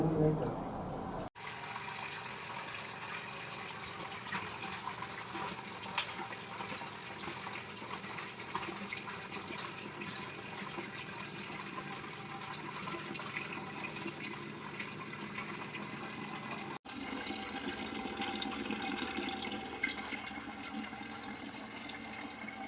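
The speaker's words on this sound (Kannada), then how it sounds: "ಹಂಡೆ ತೊಳೆದು ನೀರು ತುಂಬ್ಕೊಂಡಿದ್ದಾಯಿತು" Tap water runs steadily into a large metal water pot (hande) in a home, making a faint, continuous splashing gush that changes tone slightly twice as the flow shifts.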